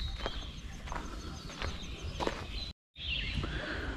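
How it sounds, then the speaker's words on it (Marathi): Small birds chirping around a quiet hillside housing site in the Konkan: faint, sparse high tweets scattered over a steady outdoor hush, with one brief dropout. "आजूबाजूला फक्त पक्ष्यांचा किलबिलाट आहे"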